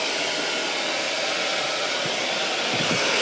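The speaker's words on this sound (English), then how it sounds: "Miss Laura, I wanna show you how to dry this hair." A hair dryer roars steadily at close range while drying hair during a keratin treatment class in a salon, with a constant loud airflow hiss throughout.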